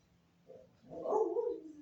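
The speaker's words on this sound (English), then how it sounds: "my dog's going crazy." A dog barks close by in a short burst, one muffled yap followed by a longer, louder bark, heard alone indoors.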